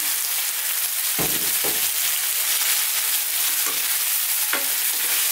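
Beef chuck, a stewing or braising cut, frying in a pan over high heat for a mushroom curry, with a steady loud sizzle and occasional sharper bursts of crackle as the meat is stirred.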